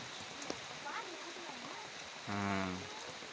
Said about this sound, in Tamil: வீடு வந்து மழை விடலை பார்த்தீங்கன்னா தெரியும்